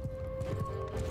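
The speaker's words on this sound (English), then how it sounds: "it's horses running around, prolonging the battle, as per usual" Horses gallop through a battle in Mount & Blade II: Bannerlord (Sturgia is Norse mod), a steady clip-clop of hooves repeating over a constant tonal hum, fairly close and continuous.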